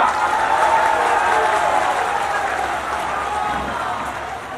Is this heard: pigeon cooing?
no